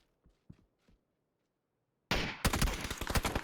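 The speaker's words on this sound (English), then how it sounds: "If you move, that SLR will shoot at you." SLR rifle fire in PUBG: a few faint thuds after near silence, then a sudden loud burst of rapid, dense gunshots that keeps cracking to the end.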